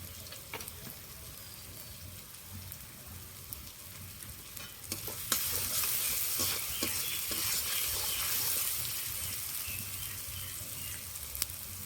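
Ginger and garlic paste stir-frying in a pan sizzles under a quiet, continuous hiss, joined by occasional utensil scrapes; the frying swells noticeably louder and brighter partway through.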